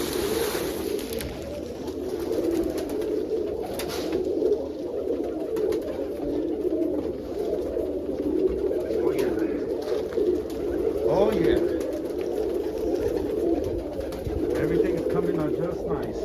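Pigeons coo steadily and close by inside a coop, their low, rolling calls overlapping without pause, with other birds adding faint rustles and chirps.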